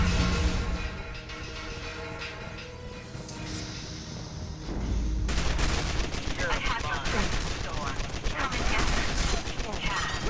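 A big gun opens fire in X-Men: The Official Game, with quieter game ambience and a voice in the first half, then a loud, sustained barrage of rapid shots pounding on to the end.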